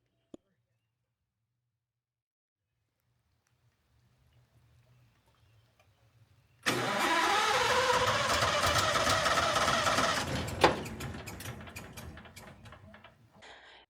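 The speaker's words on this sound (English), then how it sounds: "So before we could really get started, we had to figure out the chipper." A wood chipper's engine roars to life and runs steadily and loud for several seconds while it chips tree trimmings for garden mulch, with a sharp knock partway through and faint voices and rustling before it starts.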